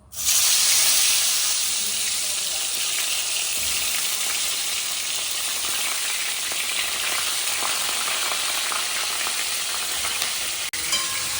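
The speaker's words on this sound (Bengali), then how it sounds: "এদিকে কাঁকড়া ভাজা স্টার্ট হয়ে যাচ্ছে" Crab sizzles loudly in hot oil in a wok, a strong continuous frying hiss that bursts up at the start and holds steady, close by with no talking.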